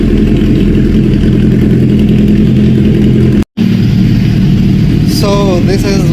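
A modified Suzuki Hayabusa motorcycle engine runs very loud and close, a dense continuous roar with a brief cut, and a voice speaks over it.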